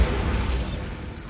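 A Bombarda spell detonates in Hogwarts Legacy with a single muffled boom that opens loud, followed by a rushing, debris-like whoosh that fades over about a second.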